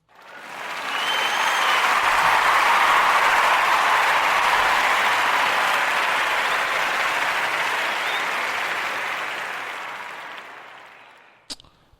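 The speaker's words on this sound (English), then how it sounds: "So I'm just give a round of applause real quick." A round of applause swells quickly into a broad, steady roar of many hands clapping, then tapers off gradually before ending with a sharp click.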